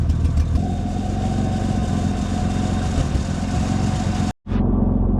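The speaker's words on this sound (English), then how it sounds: "Got a pretty bad exhaust leak," Car engine idling with a bad exhaust leak, a loud steady low rumble with a rough, uneven pulse that continues for several seconds, cuts out abruptly for an instant, then resumes.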